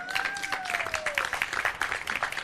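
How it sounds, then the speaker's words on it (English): Audience applause at an outdoor Progress Pride flag raising ceremony in Westfield, Massachusetts, a steady patter of many hands clapping at moderate distance, with a faint whistling tone sliding downward early on. "We can give some applause."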